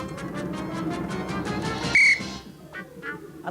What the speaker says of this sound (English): I'm about to blow the whistle